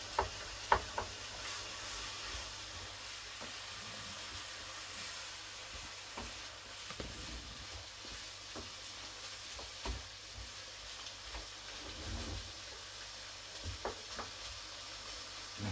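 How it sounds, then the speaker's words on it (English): Mince and red wine simmer and sizzle in a pan over high heat, a steady soft crackle with faint scattered ticks and stirring scrapes, with no talking. "it's kind of simmering now with the wine there, but we've got it on high heat"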